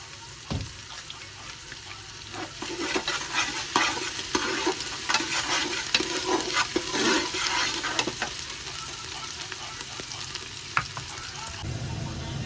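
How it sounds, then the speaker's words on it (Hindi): Onions frying in a pan of oil for Saudi-style biryani crackle and sizzle steadily, with frequent scraping and stirring clicks over the constant hiss. "यहाँ पे जी प्याज हमारे जो है ये ब्राउन होना शुरू हो गए हैं।"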